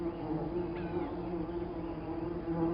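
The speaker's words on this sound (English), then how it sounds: "A guard at the entrance checks every bee entering the hive." Bees drone steadily at the entrance of a hive set in a fig tree, a continuous close buzzing hum with overlapping wingbeats that holds even and unbroken throughout, no voices present.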